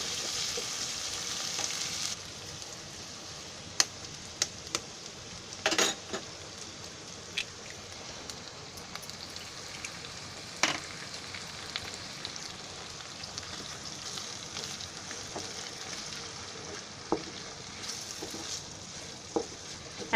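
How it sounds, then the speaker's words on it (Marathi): Egg frying in a pan for home-made chicken fried rice, a steady close sizzle running throughout with occasional sharp clicks and scrapes, no talking. "आता त्याच्यामध्ये आहे ना मी अंडा फोडून टाकते."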